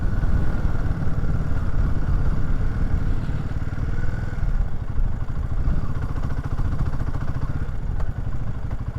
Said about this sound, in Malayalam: സിക്സ്ത് ഗിയറിൽ 60 താഴെ നോക്ക് ചെയ്യുന്നുണ്ട്.